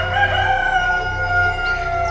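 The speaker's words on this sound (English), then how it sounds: "The cock crows." A rooster crows in a drawn-out call that holds steady at a fairly loud level for about two seconds, with no talking.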